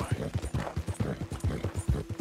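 A horse in the video game Red Dead Redemption 2 walks with steady, evenly spaced clip-clop hoofbeats, close and fairly quiet, continuing without a break.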